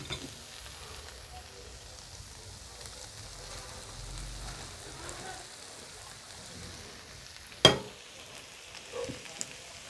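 Boiled pasta for chicken pasta being stirred and fried in a pan, a low steady sizzle with faint scraping, one sharp clack of the utensil near the end.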